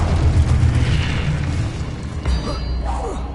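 Incendio fire spell blast in Hogwarts Legacy on PS5, a booming burst of flame with a heavy low rumble that stays loud for a few seconds before tapering under a faint voice.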